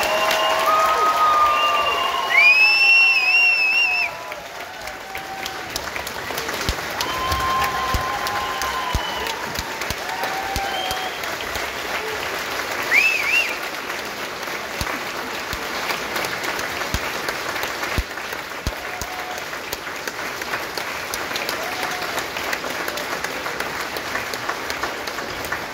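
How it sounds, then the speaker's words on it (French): Sustained applause from a graduation audience at a forestry technology college ceremony in the Maritimes, dense and steady for the whole stretch, with a little crowd noise and whistles in the first few seconds. "applaudissons chaleureusement les diplômés"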